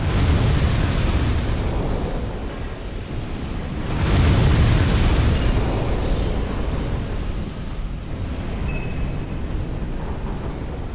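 Dark Souls 2 gameplay with heavy, rumbling blasts and booms rolling through a dense low roar, swelling strongly around the middle and continuing as a steady loud wash of explosions.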